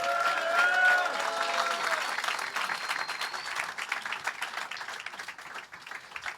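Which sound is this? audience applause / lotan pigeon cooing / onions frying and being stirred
audience applause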